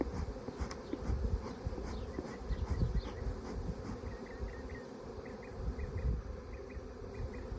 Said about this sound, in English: That's a heck of a swarm.